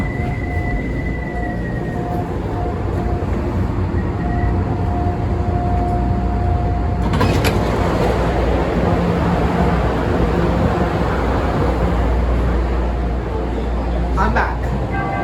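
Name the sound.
CTA Blue Line train ride, car 3329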